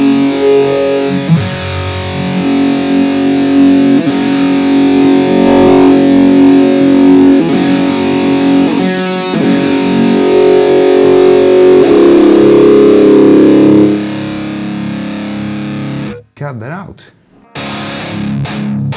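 High-gain electric guitar through the Softube Marshall Silver Jubilee 2555 amp plugin, a loud dense distorted chord sustained and churning for several seconds, then thinning out near the end with brief gaps.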